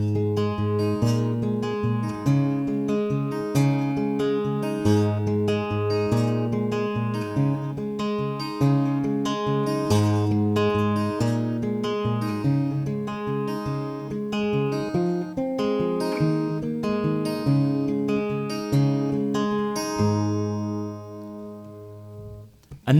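An acoustic guitar strums a chord progression. The strumming is steady and rhythmic and plays on its own for about twenty seconds before ringing out.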